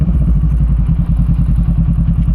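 Kawasaki Versys 650 big bike riding with a steady, loud engine drone and rhythmic low pulsing, close and continuous, no voices.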